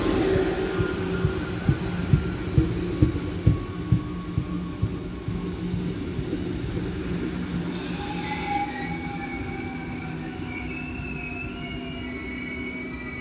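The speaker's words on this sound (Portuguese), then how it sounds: "Comboio." Suburban train passing through Vila Nova de Gaia-Devesas station in Portugal: steady rumble with rhythmic wheel clacks over rail joints early on, then long high-pitched wheel squeals, close and loud.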